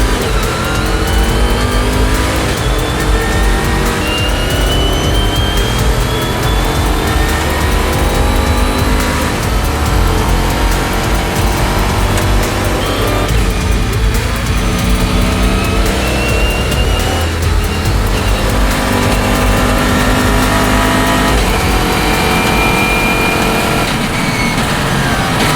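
A race car laps the circuit during the 24 Hours of Barcelona on cold tyres, its engine loud and close, revving up and down steadily through gear changes for the whole stretch.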